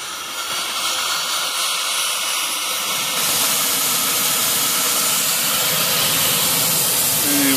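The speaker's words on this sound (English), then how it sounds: "I'll turn on the blower here." A steam blower on a massive new boiler for a large steam engine roars as a steady, loud rushing hiss, growing a little fuller partway through and holding without a break.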